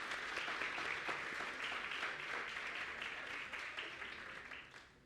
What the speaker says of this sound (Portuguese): Vamos aplaudir a iniciativa do menino,